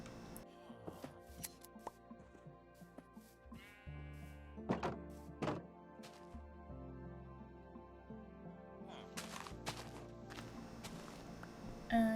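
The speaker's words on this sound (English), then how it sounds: "I made a little janky pen so I can breed the sheep and shear them for more wool" Sheep in a small pen in Minecraft, with a few brief bleats heard among scattered blocky thunks and soft footstep-like taps. The sounds are moderately quiet, with pauses between them.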